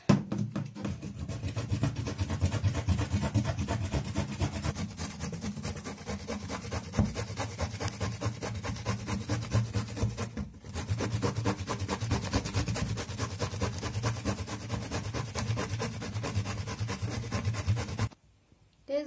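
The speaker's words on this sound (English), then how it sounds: "We need to grate it." Zucchini rubbed against a hand grater for a vegan flatbread, a steady scraping rasp repeating in quick rhythmic strokes for most of the clip, pausing briefly midway and near the end.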